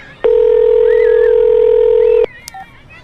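A mobile phone dialing a number gives one loud, steady electronic tone lasting about two seconds. A short, fainter beep follows, with no voices.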